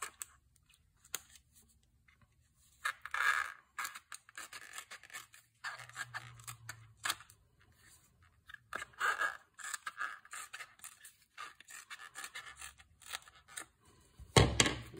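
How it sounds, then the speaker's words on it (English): Scissors snip and crunch through the belt of an RC touring car tire in repeated short bursts with quiet gaps between, close by and fairly faint. "You might even be able to hear the scissors cutting through the belt."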